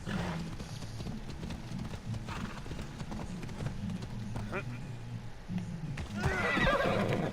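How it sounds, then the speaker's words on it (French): A horse in the game Assassin's Creed Odyssey gallops with rhythmic hoofbeats and gives a whinny near the end, while someone talks over it throughout. "on y go avec le cheval, on y go avec le cheval"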